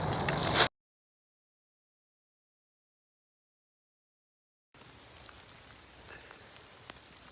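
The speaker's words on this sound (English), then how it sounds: "out here on a rainy morning" Rain falling outdoors on a wet spring morning, a steady hiss heard briefly at the start and again, quieter, near the end, with silence in between.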